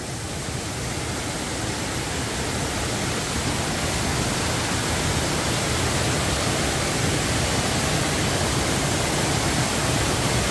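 Okyang Waterfall, on a mountain trail near Seongmunsa temple in Sangju, Korea, pours beneath a large overhanging rock and throws up heavy spray. Its roar is a steady, close, unbroken rush with no other sounds.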